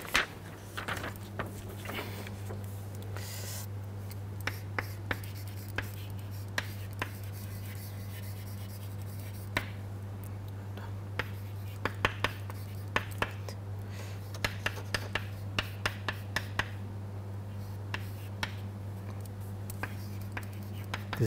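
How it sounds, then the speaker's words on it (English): Values are written by hand during a chemistry lecture, with faint scratching strokes and small taps spread irregularly over a steady low electrical hum in the room. "So these values I write here."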